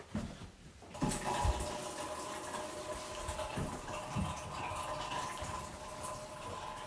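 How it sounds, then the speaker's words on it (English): A shower running in the bathroom of a rental flat in Margate, a steady hissing spray of water starting abruptly after a moment of quiet and continuing evenly. "Make sure I turn that shower off properly."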